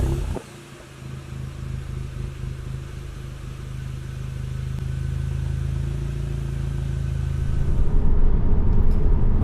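Exhaust note from a 2017 car fitted with an APR downpipe and Vibrant 17950 resonator, stock from there back: a steady, close, deep droning rumble that swells louder toward the end as revs climb, with no talk.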